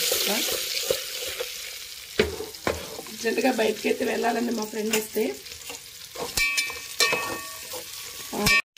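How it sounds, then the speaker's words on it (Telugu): Chillies fry in a pan, with steady sizzling and frequent clinking, scraping stirs under a voice speaking throughout. "ఇవి కొంచెం వేగుతున్నాయి కదా."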